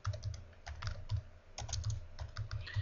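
Fingers tap out a variable name on a computer keyboard, a close run of quick, irregular key clicks with small pauses between bursts, no speech.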